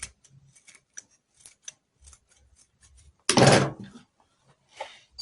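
Scissors make one short, close cutting snip through the excess zipper of a box pleat blouse, between scattered quiet handling clicks.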